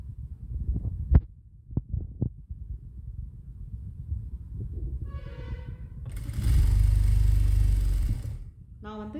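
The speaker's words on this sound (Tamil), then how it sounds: "இப்போ நான் கிராஸ் பீஸை வச்சு தைச்சிட்டு வரேன்" A tailoring sewing machine stitches a cross piece onto a churidar: scattered knocks and clicks, a brief voice, then a loud two-second motor whirr of stitching before it stops.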